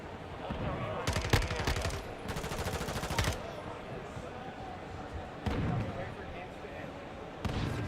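Automatic gunfire from MW2 / Warzone 2.0 gameplay, with several loud rapid bursts, one long sustained burst and short scattered shots over a steady background of game noise.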